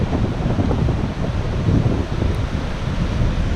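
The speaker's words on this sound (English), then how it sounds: "It's gonna get a bit windy." Strong hurricane wind from Hurricane Irma buffets the microphone in a continuous low roar, gusting slightly louder and softer with no voices.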